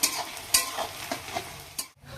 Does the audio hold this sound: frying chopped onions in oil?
yes